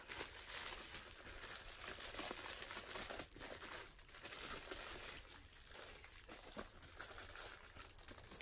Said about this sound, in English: And then it is in bubble wrap.